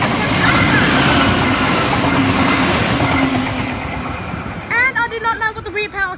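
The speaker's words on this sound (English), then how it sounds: "we should have SP35, the Canberra Explorer, about to pass platform number 3" SP35 Canberra Explorer train rolling past platform 3, a loud close rumble and rattle of wheels that fades toward the end, followed by a voice speaking over the quieter station.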